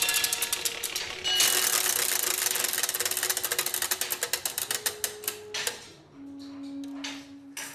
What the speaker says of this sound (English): it's driven by an astonishing piece of clockwork technology